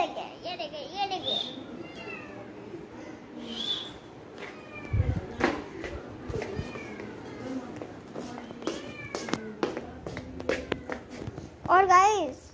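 A cat meows repeatedly in short rising and falling calls, mixed with a voice and people talking nearby.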